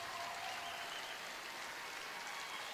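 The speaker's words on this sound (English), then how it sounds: "So a nice round of applause for Matthew Moores" Arena crowd applauding player Matthew Moores during a Watertown Arrows versus Yankton game, a faint, steady wash of distant clapping filling the whole space.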